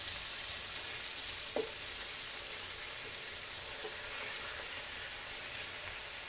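Sautéed bottle gourd with tomato and corned tuna sizzles steadily in a pan while being stirred, giving a constant close frying hiss with a single soft knock of the utensil.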